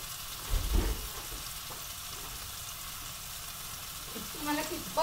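Dry grated coconut dropped into a hot pan, giving a short burst of frying and stirring followed by a steady soft sizzle, with brief scraping near the end.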